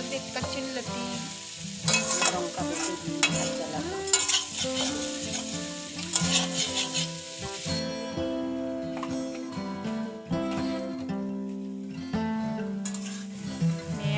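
Taro stolons (kochu loti) fry in a pan with a steady sizzle, and a utensil stirs them in intermittent scraping strokes. Tonal background sound runs throughout.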